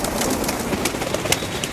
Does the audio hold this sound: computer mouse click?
no